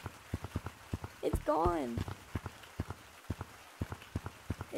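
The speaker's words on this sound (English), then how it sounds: "it's raining in real life and the game" Real rain falls, with individual drops tapping a nearby surface in an uneven patter, and a person speaks briefly over it.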